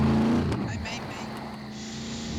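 A car in the video game SCUM drives with a low, steady engine drone that shifts pitch as it eases off, while players talk over it.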